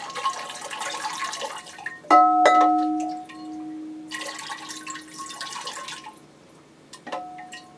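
Water pours from a can around the rim of an orchid pot in short bursts, splashing and trickling between pauses, with a couple of sharp knocks as the can touches the pot.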